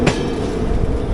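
22113 Kochuveli Superfast Express joining the main line after leaving Lokmanya Tilak Terminus in Mumbai: a steady, close rumble of a moving train with a brief sharp clack near the start, no talking.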